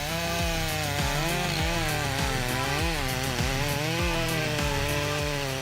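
A Stihl MS 661 chainsaw with a 91.1 cc engine cuts through a large tree trunk, roaring loud and continuous at close range while its pitch wavers under load. No one speaks.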